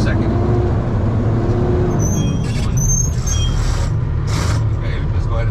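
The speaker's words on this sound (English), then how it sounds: "Now you're going to start accelerating up to 1500 and do that first shift, first to second." A Class-A truck's diesel engine drones steadily up to about 1500 rpm and shifts from first to second, a loud, close low rumble with someone talking over it.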